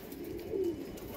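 Racer pigeons, blue chequer, give a single soft coo nearby, quiet against low background noise.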